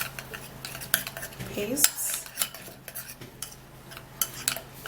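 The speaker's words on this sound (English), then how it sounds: "and then we're going to give it a stir" Oatmeal being stirred into tomato paste with a metal spoon: close, bright clinks and scrapes against a bowl in an uneven rhythm, with one louder clatter partway through.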